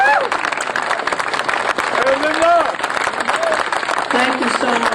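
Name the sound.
applause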